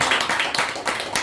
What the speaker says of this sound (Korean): 우리 박수 한번 부탁드립니다.